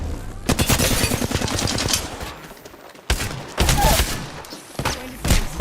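Rapid gunfire in a shooter video game, bursts of automatic shots loud and close, with sharp breaks and heavier blasts later, no talking over it.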